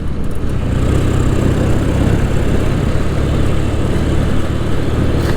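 A Royal Enfield Interceptor motorcycle engine runs steadily nearby, a continuous low rumbling drone with no voices over it.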